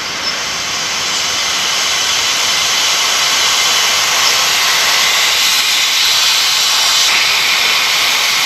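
Air rushing through a tire valve stem during inflation, a loud, steady broadband hiss that holds constant from start to finish, close up with no talk.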